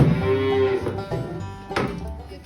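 A half dairy, half beef cow on a farm gives a long, close, loud moo that swells and then trails off, followed by a softer second lowing call, with no talk.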